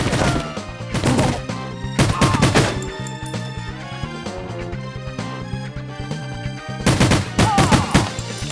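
Gunfire in 007: The World Is Not Enough comes as several loud, close bursts of rapid shots separated by short pauses, with a low in-game hum beneath.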